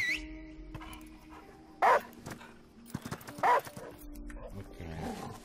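A dog barks twice within the Last Day of June video game, sharp separate yaps over a low game background, with a voice murmuring nearby.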